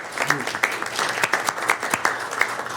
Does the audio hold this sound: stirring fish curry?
no